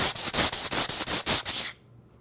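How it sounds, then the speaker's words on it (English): A rough sanding block with sandpaper rubbed back and forth along a wooden cove molding, about eight even, loud rasping strokes close by, then near silence. "Now take the rough sanding block and just run it back and forth."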